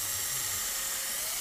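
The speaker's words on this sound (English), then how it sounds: "I'm just going to pre-drill these out." A power drill pre-drills screw holes in a wooden bed frame, a steady high whine held loud and close for the whole moment.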